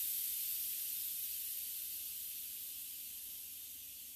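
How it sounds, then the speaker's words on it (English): Steam hisses steadily out of a pressure pot's release valve while pulled pork cooks, a bright, continuous spray that fades slightly toward the end, with no talk over it. "We're going to kind of let the steam go out."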